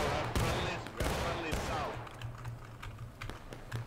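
Infantry muskets firing volleys in the War of Rights Civil War game, with several sharp broadband cracks close by, then scattered distant shots and crackle as voices talk over the field.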